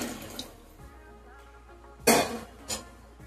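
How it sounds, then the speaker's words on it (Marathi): Thin ground-paste water from a mixer jar is poured into egg curry masala in a pan, a soft pouring wash with a brief louder splash near the end, faint and without talk. "त्या पेस्टचं हे पाणी आहे हे यामध्ये ओतून देते"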